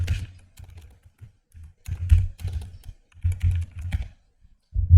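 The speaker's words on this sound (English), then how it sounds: "go to your search bar and type in Google Slides" Someone types a search on a computer keyboard, with short clusters of close, clicky keystrokes separated by brief pauses.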